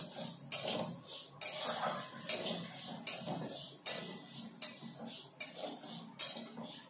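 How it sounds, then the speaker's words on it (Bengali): Moong dal dry-roasting in a hot wok, heard as a series of rhythmic scraping strokes of a utensil against the pan, each stroke a brief rasping swish, close and moderately loud. "এখন ডালটা ভেজে নেব।"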